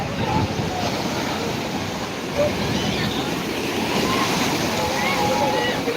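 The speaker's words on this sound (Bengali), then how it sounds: "সমুদ্র তো ব্যাপক পরিমাণে উত্তাল হয়েছে দেখতেই পাচ্ছ" Rough, churning sea waves roll onto the shore at Digha beach under a full-moon spring tide, a constant broad roar of surf with no break, heard fairly close.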